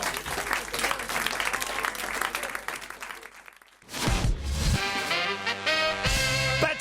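Studio audience at a French radio-television talk show applauding as a guest, a doctor, enters; broad clapping fills the first seconds, dips, then gives way to louder mixed sound with music-like tones and voices.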